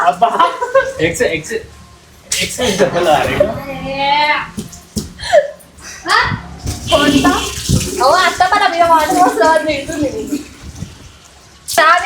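Water splashes and pours during a household egg prank, briefly audible beneath lively, near-continuous talking by adults and children.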